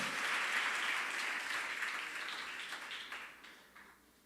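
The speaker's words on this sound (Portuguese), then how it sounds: "Aplauda o Senhor com as suas palmas em nome de Jesus." Church congregation applauding during an evening worship service, a full, steady wash of clapping that slowly fades toward the end, with no talk over it.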